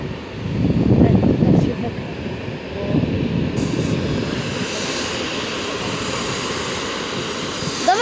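A Griffin train rolls into Warszawa Wschodnia station with a rumbling, rising wheel-and-rail roar that settles into steady clatter, heard at moderate distance with someone talking over it.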